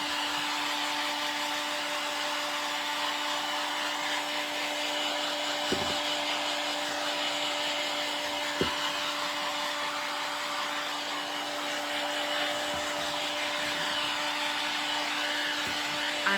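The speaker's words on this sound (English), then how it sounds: "I'm gonna go ahead and come in, add a little heat to that." A heat gun blows steadily on painted rustic farmhouse-style texture, a continuous whooshing hum running alone for the whole stretch with a few faint knocks.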